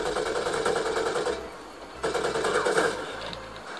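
A Maverick machine gun fires in Call of Duty: Ghosts, with two long rapid bursts separated by a short pause, loud and close, followed by a quieter stretch of game sound.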